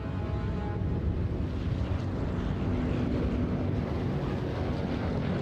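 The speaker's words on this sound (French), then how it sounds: "Des avions." Aircraft engines drone overhead in a steady, continuous broadband roar, loud and unbroken throughout with some wind-like rumble and no talking.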